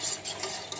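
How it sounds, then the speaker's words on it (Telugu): A ragi flour mixture is stirred in a bowl before going into boiling water, giving a soft, steady scraping swish up close with no voices. "దీన్ని ఒకసారి బాగా కలుపుకొని మరుగుతున్న నీటిలో యాడ్ చేసేస్తున్నాం."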